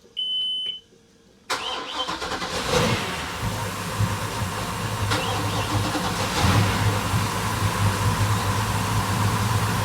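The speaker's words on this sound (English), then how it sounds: "let's start them up and I'll give you a listen to those twin Mercury racing engines" Twin Mercury racing engines on a 2008 Formula 400 Super Sport boat crank and catch with a loud burst, then settle into a deep, rumbling idle that stays steady and close.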